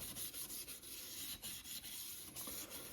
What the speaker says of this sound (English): Since the rail is cleaned off of all the debris, what you just do is just lightly sand the rail.